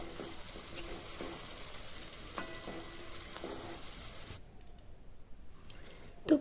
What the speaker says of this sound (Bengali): তো ফুলকপিটা দিয়ে এভাবে আমি কষিয়ে নেবো ভালো করে।